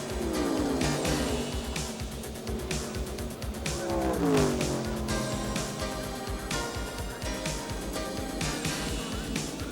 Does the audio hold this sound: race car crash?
yes